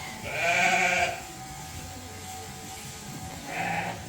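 Ewes penned in a holding tub before shearing let out two loud bleats, one early and one near the end, with a quiet stretch of low background noise between them.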